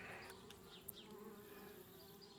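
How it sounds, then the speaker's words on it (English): Bees buzzing in the point-and-click adventure game Anna's Quest, a steady faint drone with a few brief louder passes, heard alone without talk. "Darn bees."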